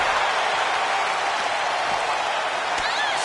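Wrestling arena crowd in WWE 2K25 roaring and applauding as a woman wrestler rallies, a dense continuous wash of cheers and clapping throughout, with a commentator's voice underneath.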